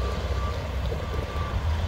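A Home Depot delivery truck backs up, its reversing beep a faint, steady tone sitting under a low engine rumble.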